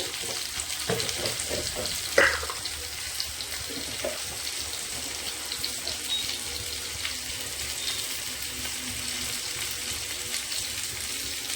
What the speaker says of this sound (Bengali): এবার দিয়ে দেবো কেটে রাখা কাঁচা লঙ্কা, টমেটো।